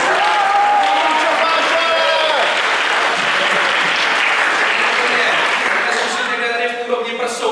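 Sustained, loud audience applause fills an improv comedy show hall, a dense wash of clapping that holds steady before thinning slightly near the end.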